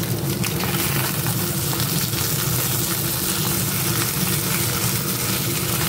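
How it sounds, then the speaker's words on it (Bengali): Fish fries in hot oil in a pan, giving a steady, loud, close sizzle that runs unbroken throughout with no talking. "মাছটা আর একটু ভাজা ভাজা হবে।"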